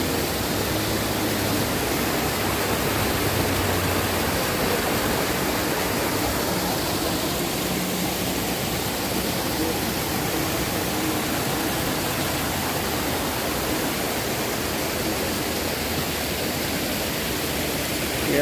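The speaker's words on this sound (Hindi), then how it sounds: "आगे से पानी नीचे गिर रहा है।" Water pours steadily down a stream at a trout farm, a constant, dense rushing wash that stays even and close from start to finish, with no voices.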